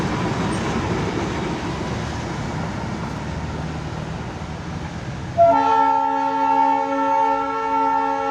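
A diesel train engine rumbles nearby, then sounds its horn: a loud, sustained chord of several tones that starts abruptly and holds for nearly three seconds over the engine noise.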